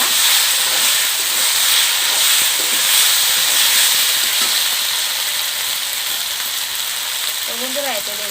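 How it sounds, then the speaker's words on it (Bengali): Fried potatoes go into a village-style desi chicken curry, setting off a loud, continuous frying hiss that holds steady for several seconds, close up and without speech. "ভেজে রাখা আলুগুলো দিয়ে দিলাম"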